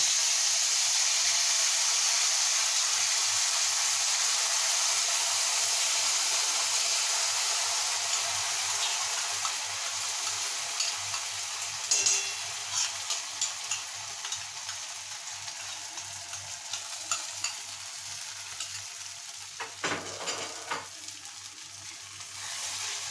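Spice paste goes into hot oil in a wok for paneer masala, a soft steady sizzle that gradually settles, with occasional stirring clinks and scrapes and no speech.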